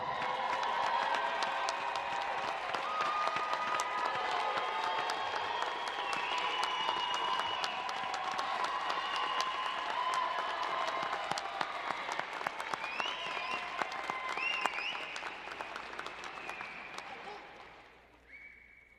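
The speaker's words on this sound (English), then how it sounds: "Look for your family and loved ones in the audience and salute them with your applause." Graduates at a university doctoral hooding commencement applaud their families, a large crowd's sustained clapping with scattered cheers echoing through a big hall, fading toward the end.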